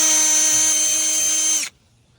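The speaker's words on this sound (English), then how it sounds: "we're just gonna take the auger, you see this? Got it attached to my drill right here" A cordless drill with a 1.2 inch auger bit bores into the ground for grass plugs, giving a loud, steady high-pitched whine that holds for about a second and a half, then cuts off abruptly into near silence.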